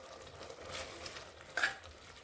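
Snake gourd kootu with sautéed shallots is stirred in a pan, making faint, soft scraping and gentle sizzling. One slightly sharper scrape stands out near the end.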